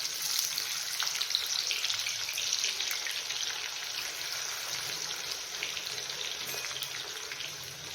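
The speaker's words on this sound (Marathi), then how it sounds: "तर आपण तेलामध्ये कांदा टाकून घेतलेला आहे तर हा कांदा आपल्याला गोल्डन रंगावरती भाजून घ्यायचा आहे फ्राय करून घ्यायचा आहे" Onion frying in hot oil makes an even, continuous crackling sizzle, close and moderately loud, steady throughout with fine popping texture and no talking.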